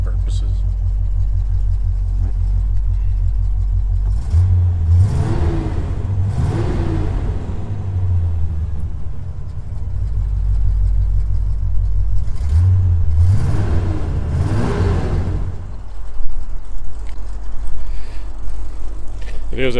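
A 1981 Corvette idles with a steady low rumble through 2.5-inch exhaust tubing with a cat delete and Dynamax turbo mufflers, swelling twice into short revs, with talk over it.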